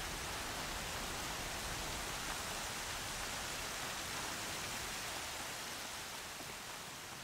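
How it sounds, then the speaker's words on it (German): Rain in the video game Horizon hisses as a steady, even wash of fine noise, fairly soft and constant, dipping slightly toward the end, with no voices over it. "Der Regen lässt nach."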